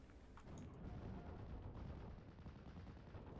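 Artillery barrage from an M20 observation post in the WWII strategy game Steel Division: Normandy 44, heard as a dense, continuous rumble of overlapping booms and gunfire at a steady loud level.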